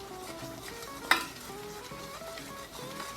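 Caramel icing boils in a pot while a spoon scrapes and stirs through it, a soft bubbling hiss with one sharp clink of utensil on the pot rim partway through.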